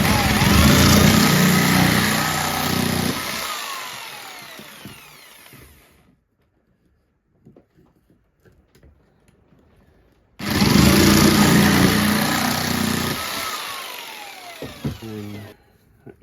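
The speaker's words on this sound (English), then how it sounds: "Is it a jigsaw? Probably not. Will a jigsaw do it? Probably." A jigsaw cuts a part for a Batpod build in two loud, harsh runs of rapid buzzing separated by a quiet pause with small clicks and handling noises.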